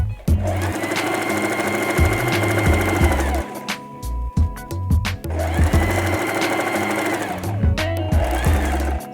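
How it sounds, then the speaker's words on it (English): Domestic sewing machine stitching the body of a fabric bag, a loud, steady motorized whir running in two long bursts with a brief pause between as the work is turned. "lift the presser foot and turn the body of the bag. And you can continue sewing."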